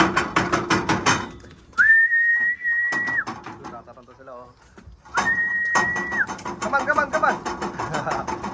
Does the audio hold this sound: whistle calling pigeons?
yes